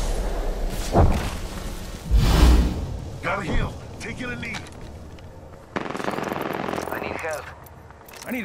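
Gunfire in a shooter video game comes in several bursts of loud cracks and thumps, separated by gaps, over a steady bed of game ambience.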